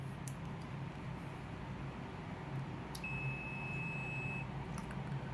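Continuity beep from a multimeter testing the normally closed contact of a Schneider LC1D09 magnetic contactor: one steady tone lasting about a second and a half, clear over a low background hum.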